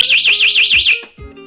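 An electric buzzer rigged to a taser on a basketball hoop blares loudly in a rapid pulsing warble, repeating about eight times before cutting off, followed by a couple of brief clunks.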